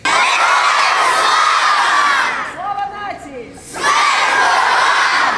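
Soldiers shout Slava Ukraini in unison at the end of a meeting, a loud crowd roar that breaks off briefly and then surges back just as strongly.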